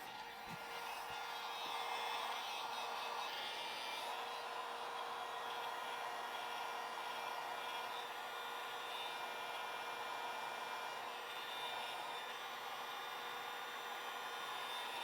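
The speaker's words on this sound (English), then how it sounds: "we'll get a heat gun on that and pull these things off" A heat gun runs steadily to warm parts on a truck so they can be pulled off, a constant faint blowing whine with no breaks or talk.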